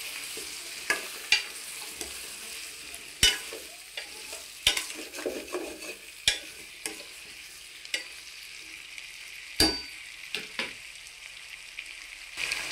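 Drumstick (moringa) pieces cooking in oil for a drumstick and egg curry, a soft steady sizzle broken by repeated scraping stirs and clinks of a utensil against the pan.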